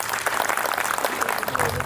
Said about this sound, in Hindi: एक बार उसके लिए जोरदार तालियां हो जाए।